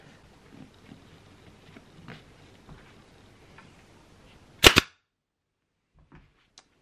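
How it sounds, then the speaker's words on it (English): A staple gun fires a staple into fabric on a cheap oversized DIY footstool, giving a single loud sharp double snap in a quiet room after some soft handling rustle, followed by faint small clicks. "And pop a staple in."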